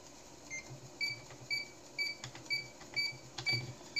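The head of a 5.25-inch floppy drive steps up and down, giving faint, evenly spaced mechanical ticks with brief high whines about twice per second over a quiet background hum.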